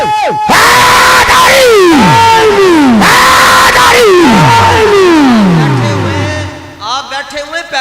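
A large crowd chants a religious slogan (naara) in unison, loud and close, with repeated rising and falling shouted calls that fade toward the end.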